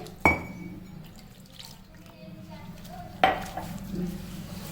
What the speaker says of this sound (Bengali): লঙ্কার গুঁড়ো দিয়ে এটাকে আমি জল দিয়ে এখন নেড়ে ভিজিয়ে রেখে দেবো